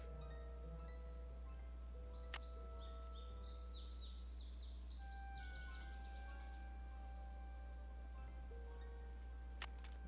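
Birds call in the Nancy Drew: Ghost Dogs of Moon Lake video game. Short, quiet chirps and tweets come at irregular moments over a constant low ambient hum.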